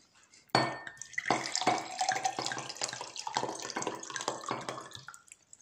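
Water poured into a glass or cup beside a dish of raclette-style bacon and cheese fries, a broken splashing and trickling lasting several seconds, close and fairly loud with no talk.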